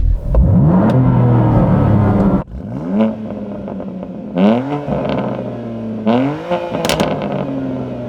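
BMW M2 Competition engine revving hard in a series of four or five rising blips, each climbing sharply then dropping back, loud and close with brief gaps between.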